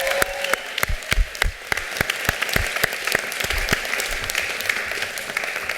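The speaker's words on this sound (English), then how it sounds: "Let's give a round of applause." Graduation audience gives a round of applause, a burst of dense clapping that stays loud and steady, then gradually thins out toward the end.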